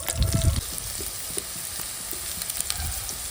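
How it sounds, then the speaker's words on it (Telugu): Bitter gourd pieces frying in hot oil, a continuous close sizzle with light popping and a few soft stirring knocks near the start. "మన కాకరకాయని ఇరువైపులా ఇవి మాత్రం బాగా వేయించుకోవాలి"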